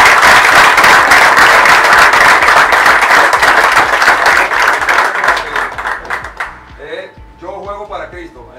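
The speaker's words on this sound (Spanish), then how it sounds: "Le voy a regalar un aplauso a Dios." Loud, dense applause and clapping from a group of baseball players gathered in a clubhouse for prayer, fading out near the end as voices take over.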